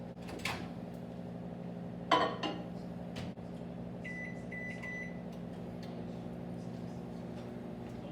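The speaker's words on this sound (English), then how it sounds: "we're going to put it in the microwave for 40 seconds." A microwave oven hums steadily while warming a cup of milk in a glass, with a door thud and a clunk near the start and a few beeps later, all close and fairly quiet.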